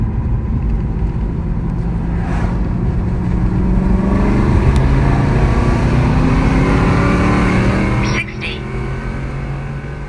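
An Aston Martin fitted with GT4-style air filters accelerates hard through a data-logged quarter-mile run, its engine roaring loud and close with a steadily rising pitch and a brief gear-change dip near the end, and voices talk over it.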